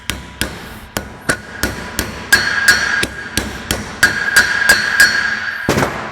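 Sharp metallic hammer strikes drive a seal into a Toyota 80 Series Land Cruiser steering knuckle, about fifteen blows in a fairly even rhythm, loud and close with no talk.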